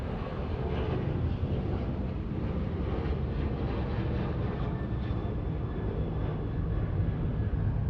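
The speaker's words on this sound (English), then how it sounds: "And here we have American Airlines Flight 2939 headed to Chicago." Steady, broad roar of an American Airlines jet airliner at Los Angeles International Airport, a distant, continuous engine rumble holding level throughout with no talk.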